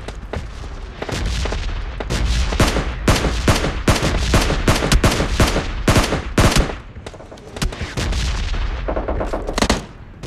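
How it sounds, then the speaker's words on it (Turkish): Rapid bursts of video game gunfire crack and boom throughout, loud and dense, with short pauses between volleys and no talk. "Bana kurşun sıkmaya çalışıyor."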